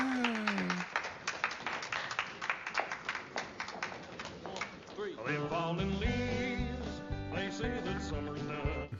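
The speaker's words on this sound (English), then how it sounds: "I'm happy those girls clapped." A few viewers clap during a scene in the film Pride, a brief scatter of sharp claps over music and talk, fairly quiet and soon overtaken by the soundtrack.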